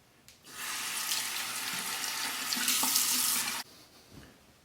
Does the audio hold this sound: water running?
yes